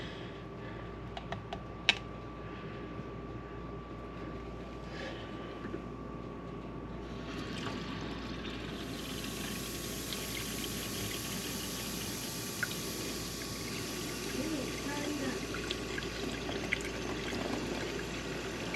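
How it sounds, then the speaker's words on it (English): Faint bubbling and trickling water with small clicking pops fizz steadily as air escapes from a Berkey water filter being primed, close by and quiet, growing slightly fuller about halfway through. "You can hear the little air bubbles as it primes."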